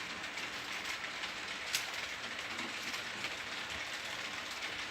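On the Taupo Model Railway Club's layout, a small train rolls past with a continuous soft rumble and light wheel clatter over the rails, steady and moderately close, with no voices over it.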